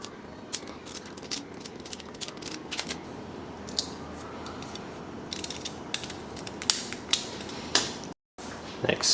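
A hand deburring tool scrapes and clicks inside a freshly drilled hole in an Ikea Upphetta French press, giving a steady close-up scratchy grinding with irregular sharp ticks and creaks, louder toward the end.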